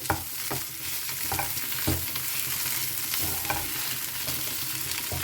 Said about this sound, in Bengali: এটা কিন্তু আরেকটু শোকাবে আরেকটু নাড়তে থাকতে হবে